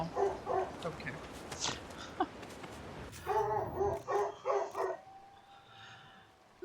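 A dog barks in short, repeated bursts in Dragon Age Inquisition, modded, in the Emerald Graves. The yips are fairly close, with a brief lull and a final bark, over soft game ambience.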